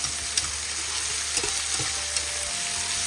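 Finely chopped carrots and beans sauté in a pan for cabbage poriyal, giving a steady close sizzle with occasional soft stirring scrapes.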